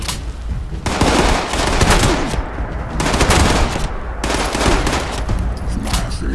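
Rapid gunfire from a shotgun build in the video game Fallout 76 rattles out in loud, dense bursts separated by brief pauses, with no clear speech over it.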